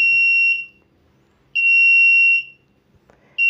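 A poultry house control panel buzzer alarm sounds a high, steady electronic tone in repeated long beeps, each lasting about a second with brief silent gaps between them, loud and close.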